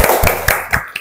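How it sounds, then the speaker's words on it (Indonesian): A group claps hands together during a classroom ice-breaking activity, a few strong, loosely synchronized claps in quick rhythm, close and loud. "Tepuk tangan untuk kita semua."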